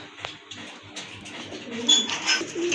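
Pigeons coo softly in low, rounded murmurs, with a few brief chirps and rustles over a quiet background.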